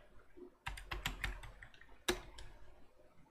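Keystrokes on a computer keyboard as commands are entered in a Linux terminal: a quick burst of close clicks, a brief pause, then a couple more sharp taps, with no talking.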